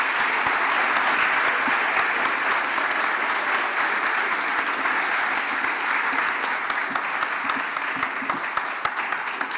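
An audience at a senior art colloquium applauds the art students, dense steady clapping held at an even level throughout, with no speech over it.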